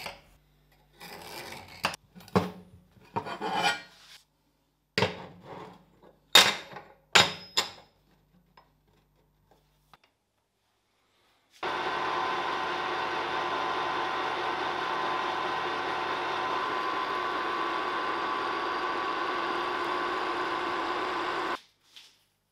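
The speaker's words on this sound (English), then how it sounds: "I need to cut this 10mm plate into 4mm wide slabs" A milling machine cuts a 10mm plate into 4mm slabs. Scattered clicks and knocks come first, then a steady, moderately loud cutting roar runs evenly for about ten seconds before stopping abruptly.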